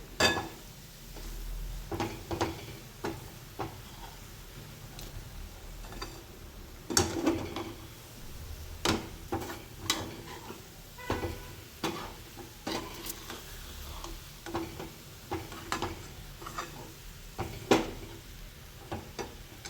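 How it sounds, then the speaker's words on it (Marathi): Protein laddu ingredients, crumbled roti churma with jaggery and tutti frutti, get mixed by hand in a bowl, giving irregular soft clicks and scrapes close up over a quiet background, with no talking. "आता हे सर्व आपण मिक्स करून घ्यायचं आहे."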